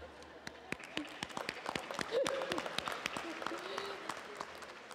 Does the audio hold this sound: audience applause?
yes